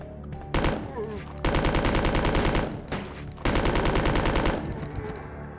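Rapid automatic gunfire in Resident Evil 2, two long sustained bursts of dense, loud shots separated by a brief pause, with a steady high whine running underneath.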